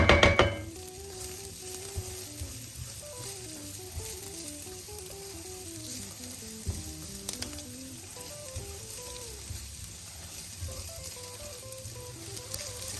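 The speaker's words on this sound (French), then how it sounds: "quand l'échalote et la guanciale ont bien grillé" Shallot and guanciale fry in a pan, a continuous soft sizzle and crackle close by with occasional stirring, no voices.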